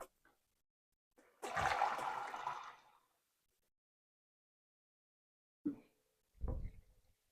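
Tap water runs into a pot for chicken stock in a short gushing burst, followed later by two brief clunks and splashes, with silence in between.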